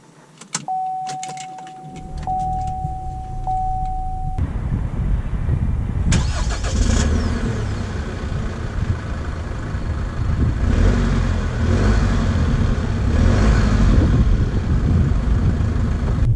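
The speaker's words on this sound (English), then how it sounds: "we are setting off in the ZR2" A 2019 Chevy Colorado ZR2 pickup with the Duramax diesel cranks over after a key-on chime and settles into a loud, close idle, then rumbles steadily as it pulls away, with a faint whir of a power window.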